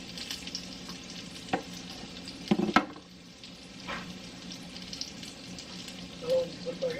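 Meat browns in a hot pan with a soft, steady sizzle, broken by a few sharper clatters of stirring and scraping, fairly quiet and without voices.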